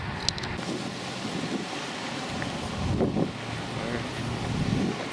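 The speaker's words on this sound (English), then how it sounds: "It's so windy here." Strong gusty wind buffets the microphone outdoors near a beach, a steady broadband roar with louder surges around the middle and end, alone without talk.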